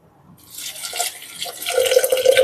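Water poured into a home soup maker after a tablespoon of oil, a rising splashing pour that builds steadily and ends in a brighter filling stream, close and alone.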